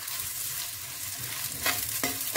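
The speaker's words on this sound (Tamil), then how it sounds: "நல்லா எண்ணெயிலே நல்லா வதங்கட்டும்." Onions sauté in oil in a pan for mutton thanni kulambu, giving a continuous close sizzle with two distinct scraping stirs near the end.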